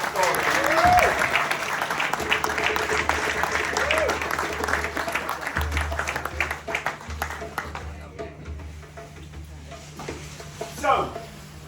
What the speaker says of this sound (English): Can we give Babs a round of applause for that story?